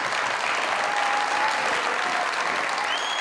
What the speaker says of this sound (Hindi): तब डायरेक्शन के लिए भी तालियां